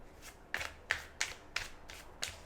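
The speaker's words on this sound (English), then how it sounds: "Okay, so everything is shuffled." Tarot cards being shuffled by hand, six crisp riffling bursts falling at a steady pace, close and fairly quiet with no talking.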